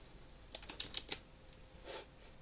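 A few quick keystrokes on a computer keyboard, a short burst of about five taps followed by one softer press, close and fairly quiet with no talking.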